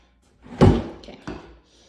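A flip-down drawer in a master bathroom vanity is pulled open, giving a sharp wooden knock followed by a sliding rattle and a second softer thump, close and brief, with quiet room tone around it.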